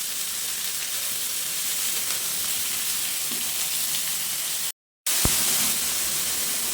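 Green chilli, onion and capsicum sauté in a hot pan for chicken noodles, a continuous close frying hiss with a brief dropout and a sharp clink after it.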